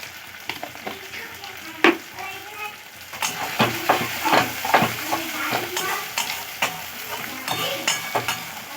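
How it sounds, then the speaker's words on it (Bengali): Chopped tomato, ginger, garlic and onion sizzle in hot oil with salt, and a utensil stirs them with repeated scraping strokes. It starts quiet, then gets louder and busier with bubbling hiss. A faint voice comes in briefly near the start. "টমেটো আদা রসুন পেঁয়াজ আর আমি 1/2 মিনিটের মতো ভেজে নেব।"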